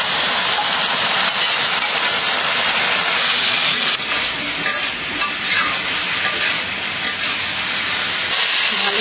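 Prawns sizzle steadily in hot oil as they go into a curry in a pan, a continuous close frying hiss with faint stirring and no talk.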